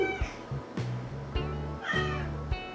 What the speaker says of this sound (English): Yeah, kitty cat.